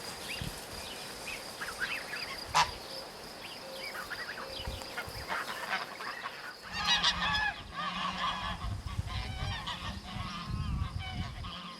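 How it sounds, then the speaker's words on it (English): Geese and swans on a farm honk loudly and repeatedly, the calls overlapping into a noisy chorus that grows busier in the second half, with no talking. "These are swans and geese."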